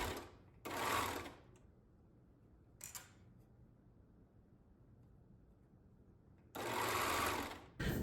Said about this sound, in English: especially if you're using a serger, just remember it's much less forgiving than a sewing machine since it's cutting the fabric as you go